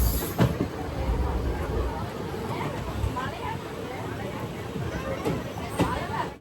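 The Palakkad–Tiruchendur Express runs along the line near Nazareth station in the Tirunelveli area with a steady rumbling roll and a few sharp rail clicks, while passengers talk in the carriage.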